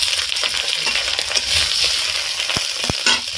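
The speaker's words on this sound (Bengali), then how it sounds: "সর্ষের তেলটাও গরম হয়ে গেছে এর মধ্যে দিয়ে দিচ্ছি কেটে রাখা আলু" Cut potatoes going into hot mustard oil in a heated wok, a loud close sizzle and crackle with sharp clinks and scraping knocks near the end, no speech.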